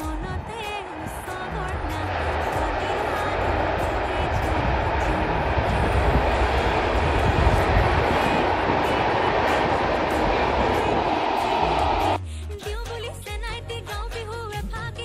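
A train crossing a railway bridge near the Khirai flower fields outside Kolkata, a loud sustained rumble and rattle of wagons that runs for about twelve seconds and then drops away into quieter background with some crowd and voice sounds.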